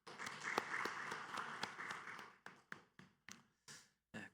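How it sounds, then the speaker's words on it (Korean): Congregation applause in a church after a women's mission group sings a special hymn, a dense patter of clapping that thins after two seconds into a few scattered, separate claps. "다시 한번 축복하고 격려하는 박수 하도록 합니다"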